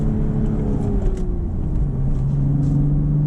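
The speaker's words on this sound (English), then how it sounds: "Rev match downshift." A 2025 BMW Z4 M40 with a manual gearbox rev-matches on a downshift: a loud, close engine note sweeps as the revs rise and settle into a steady, deep drone, with no talking.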